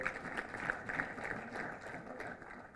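Audience at a State House event in Entebbe, Uganda, applauds, a faint, distant, steady patter of many hands clapping in a large room.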